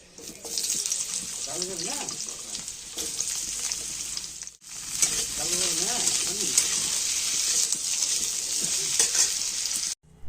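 Cabbage curry sizzles and fries in a pan while being stirred, a steady loud hiss with scraping, briefly interrupted midway and at the end, with faint voices in the background.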